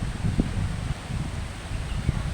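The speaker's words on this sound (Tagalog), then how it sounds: "Ang hangin dito." Steady wind buffeting the microphone outdoors at a plaza in Tuen Mun, Hong Kong, a continuous low rumble with gusty bumps and faint rustling, with no talking.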